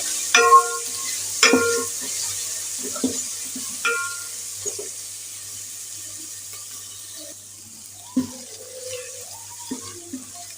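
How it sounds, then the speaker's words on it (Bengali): Spices for khichuri being fried and stirred in a pan: a few sharp spatula scrapes and clinks against the pot over a faint, steady sizzle, with quieter stretches between strokes. "এখন একটু ভেজে নেব মশলাগুলো"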